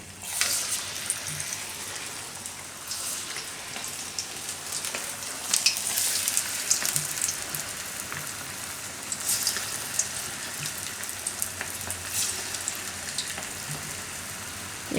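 Mixed dal vada fritters fry in hot oil over a lowered gas flame. A soft, steady crackle and sizzle continues quietly, with a few brighter pops and no voices.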